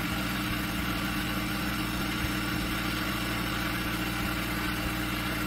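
A small DC motor spins a flywheel at a steady 3600 RPM, a continuous even hum with a low mechanical drone and no change in pitch or level.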